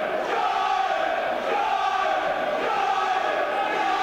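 Steady crowd noise at a Minotaur Gym fight show during an adult bout, a constant heaving roar of cheering and shouting that continues without a break, with no clear talk.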